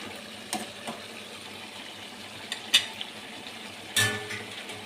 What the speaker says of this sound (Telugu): ఈ వాటర్ మొత్తం ఈ చికెన్ పీసెస్కి పట్టే వరకు ఫ్రై చేసుకోవాలి